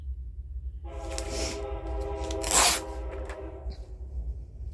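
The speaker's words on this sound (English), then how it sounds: "There's our train. It's very loud today." A loud train passing nearby sounds a long multi-tone horn blast lasting a couple of seconds, with a sharp burst midway, over a low rumble of rolling wagons.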